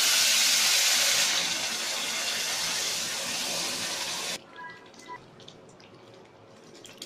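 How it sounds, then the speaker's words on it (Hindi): Hot sugar syrup is poured into fried semolina halwa in a pan, giving a loud rushing, sizzling splash that cuts off abruptly, followed by quieter bubbling and clinks. "अब इसमें डाल देंगे चीनी का पानी, जो कि मैंने पहले से ही गर्म करके रखा है।"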